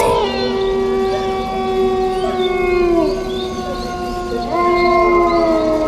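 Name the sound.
wild animal howling in a dark forest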